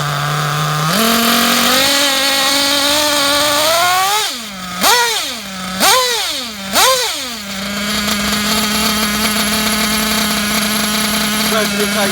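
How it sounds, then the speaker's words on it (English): Reds Elliott Boots nitro engine in a Kyosho MP9 buggy idling during break-in, a loud steady buzzing drone that swoops up and down through three quick revs in the middle before settling back to a steady idle. "So you will find the idle will raise and drop, raise and drop."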